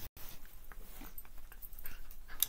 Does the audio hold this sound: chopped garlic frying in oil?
no